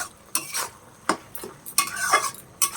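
Spinach and prawn curry stirred in a pan, with a handful of separate scraping, clattering strokes of a spoon against metal over a faint background sizzle.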